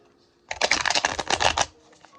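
A single quick riffle shuffle of slick oracle cards, a dense fluttering burst lasting about a second, close and fairly loud against quiet surroundings.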